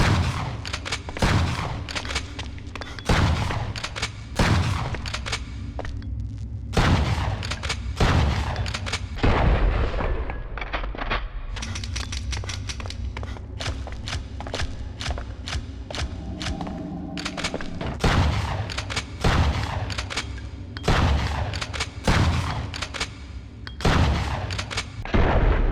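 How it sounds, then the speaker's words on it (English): SPAS-12 shotgun blasts from Resident Evil Outbreak File 2 ring out as loud, booming single shots spaced a second or two apart, some with mechanical pump clatter between them, repeated steadily throughout. "the Spas 12 is one of the most recognizable shotguns in Resident Evil history"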